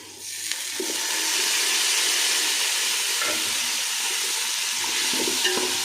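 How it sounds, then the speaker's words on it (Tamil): Tomatoes for chicken biryani sauté in a pan with a loud, even hiss of sizzling and a few soft stirring clicks, close and continuous, with no voices. "தக்காளி நல்லா வதக்கிக்கலாம்"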